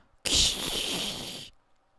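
A single snare hit picked up by a room mic, with a bright, hissy wash that rings on for over a second before cutting off.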